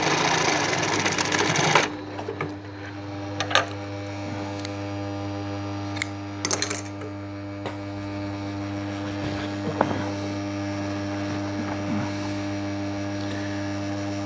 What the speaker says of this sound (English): So run the piping down, sew that back on both sides, and then trim that off.